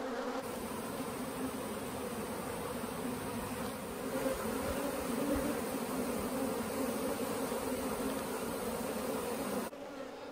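A large honeybee swarm hangs in a cluster during a hive split, giving off a steady, dense, continuous buzz that stays loud and even from start to finish.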